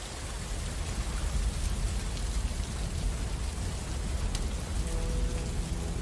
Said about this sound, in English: I can hear the pattering of rain from somewhere, and the sound of a crackling fire.